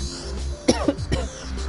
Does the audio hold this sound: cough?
yes